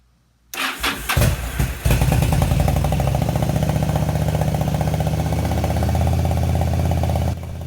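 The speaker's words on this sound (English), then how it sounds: "we should be in the ballpark to get this engine running" A Yamaha V-Star 1100 motorcycle engine with pod air filters cranks a few times, catches, and settles into a loud, steady idle that runs for several seconds before cutting down, in 90+ degree weather.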